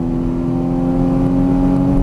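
A sports car engine under throttle on a race track gives a steady, fairly loud droning hum with a low rumble beneath, continuous for the whole moment with no speech.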